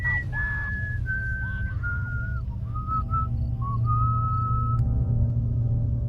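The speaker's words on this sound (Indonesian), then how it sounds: "Bahkan dia pun bersiul dengan santai." A man whistles a casual, wandering tune in short sustained notes with pauses, over a steady low background hum.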